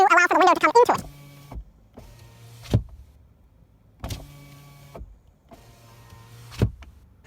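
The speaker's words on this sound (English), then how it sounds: "When you roll down the window on the driver's side or the passenger side" The electric window of a Chevrolet Bolt runs down and up in four separate motor whirs, each ending in a thud as the glass stops, heard close after a brief burst of talk at the start.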